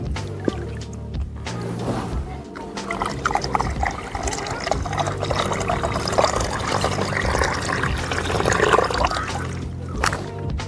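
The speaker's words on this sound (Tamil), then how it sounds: "டேரெக்டாக இப்போ நம்ம வாட்டர்மெலன்லேயே ஊற்றி என்ஜாய் பண்ண போகிறோம்" Watermelon juice pours into a hollowed-out watermelon in a steady, continuous liquid stream with trickling and splashing, fairly close and sustained throughout.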